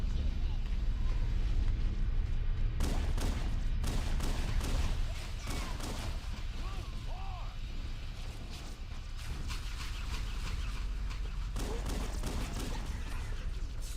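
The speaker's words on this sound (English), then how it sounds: "Oh, I hear gunfire." Bursts of rapid gunfire in the video game Halo: Combat Evolved crackle for a couple of seconds over a rumbling background, then fade, with someone talking throughout.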